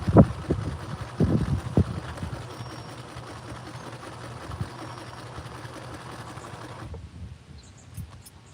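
A sewing machine stitches fabric while denim and a wedding dress are upcycled into a fairy skirt. It runs as a steady, continuous motor whir for about seven seconds after a few bumps of handling, then stops abruptly.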